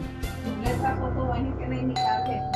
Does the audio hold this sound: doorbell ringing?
yes